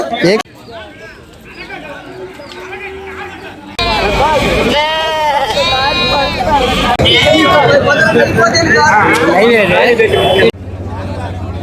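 Goats bleat repeatedly at a large weekly animal market in Manyam District. The wavering cries are close and loud over a busy crowd babble, and people haggle nearby.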